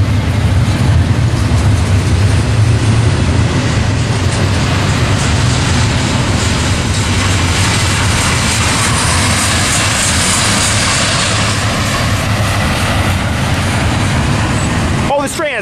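A long freight train with mid-train locomotives rumbles past at Tehachapi, loud and close, a continuous heavy roar of engines and rolling wagons that holds steady throughout.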